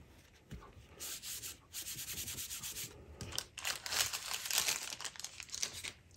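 Embossing buddy rubbed over cardstock for a card-making project: a soft, close, continuous rubbing and scuffing with brief pauses, steady strokes with no talking.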